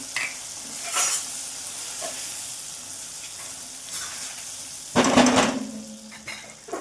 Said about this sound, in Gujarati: ત્યારબાદ તેમાં હળદર એડ કરીશું ધાણા જીરું એડ કરીશું અને બધું બરોબર સોટે કરી લેવાનું છે